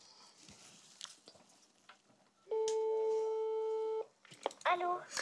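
A telephone line tone sounds once for about a second and a half while calling the Angoulême town hall, steady and fairly loud, with faint rustling and a voice around it.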